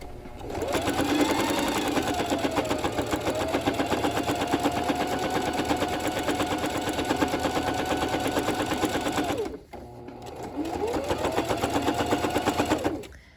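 Sewing machine running a line of edge stitching along a quilted coat, a loud close continuous rapid chatter that stops briefly then resumes.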